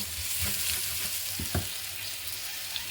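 Ingredients for a duck roast sauté in a hot pan, a steady close sizzle broken by a few sharp scrapes and clinks of stirring.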